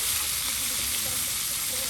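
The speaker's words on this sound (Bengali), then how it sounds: "মাছ কিন্তু একদম সুন্দর করে একদম তেলে ভেজে নেওয়া হচ্ছে" Fish, tilapia, frying in oil at an outdoor riverside cooking spot, giving a steady, dense sizzling hiss that runs unbroken throughout at close range.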